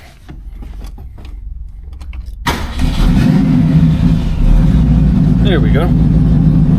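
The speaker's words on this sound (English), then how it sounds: "A little cold start, you know how it is with the carbs." A cold carbureted 1965 Ford Mustang engine cranks and catches at about 2.5 seconds, then settles into a loud, steady rough idle; before the start, soft clicks and handling sounds, with someone speaking briefly over the running engine.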